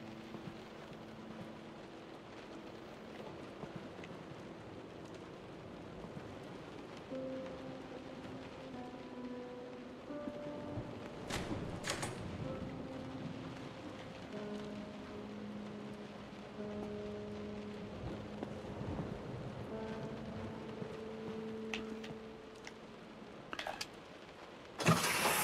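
Rain outside in the game Close To The Sun patters as a soft steady hiss, faint and distant, under low tonal hums and occasional clanks, with a sharp burst right at the end.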